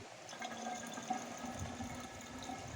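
Water gurgles and trickles steadily as it is poured into a gasoline water pump used at a resort, priming it before the engine is started, a continuous close splashing fill with low background rumble.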